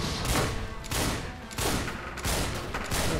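Dual shotguns fire in a video game: heavy, booming blasts repeat about every half second, loud and close, each one filling the sound with little pause between them.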